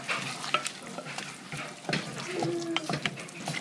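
Croqueta mixture sizzles in a frying pan, stirred constantly so it won't clump. A close, busy crackle is broken by quick scraping strokes, and a brief faint tone sounds partway through.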